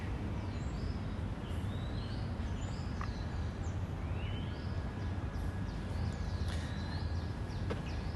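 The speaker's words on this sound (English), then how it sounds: "the bird sounds here are pretty awesome. It's a good mixture of them" Varied birds chirp and call over a steady background hum in Phuket Town during the rainy season, short whistles and tweets scattered throughout at moderate distance, no voices.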